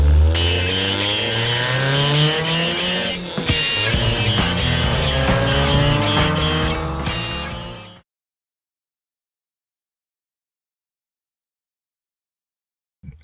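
A Honda Civic EJ9's small engine fires up immediately and runs with a steady revving hum, loud and close, then cuts off abruptly into silence.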